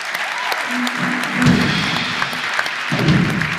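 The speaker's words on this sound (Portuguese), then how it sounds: "a salva de palmas" A round of applause during a talk-show interview, moderately loud and steady, mixed with a few thumps and some talking underneath.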